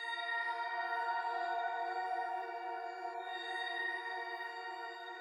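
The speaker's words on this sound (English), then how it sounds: "The first sound I'm using from the Paradise kit is called Pad Glitter" Pad Glitter synth pad from the Paradise sample kit, played in FL Studio: a sustained, shimmering, bright chordal texture holding steady and even throughout, alone with no voices.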